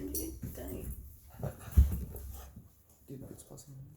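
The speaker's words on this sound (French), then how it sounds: "Si vous savez pas, ça c'est mon chien Winston." Winston the dog whimpers softly and breathes in short pants close by, a few small whines over a couple of seconds, with a person talking over it.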